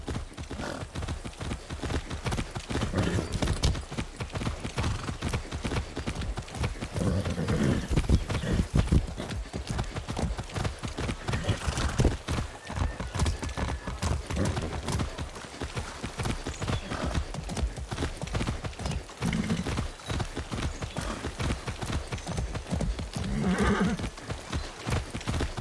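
Horse hooves galloping in the video game Far Cry 6, a loud, fast, continuous clatter of hoofbeats with occasional whinnies, close and driving for the whole stretch.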